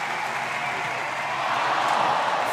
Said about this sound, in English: And the crowd, I mean, I can barely hear myself talk here in the stadium.